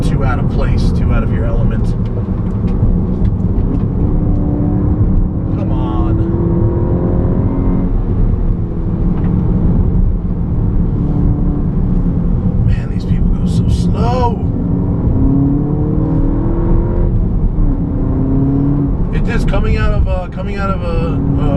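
A 2015 Volkswagen MKVII GTI is driven hard around a race track, its engine a loud, steady drone that rises and falls through the gears while the driver talks over it throughout.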